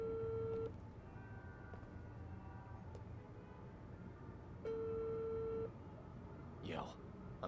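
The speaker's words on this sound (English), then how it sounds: "I need to make a phone call anyway." In the Unheard video game, a telephone call goes through at a police station: two long steady beeps of a ringing or busy tone with a quiet line between, then a brief rising electronic sweep, with faint talk.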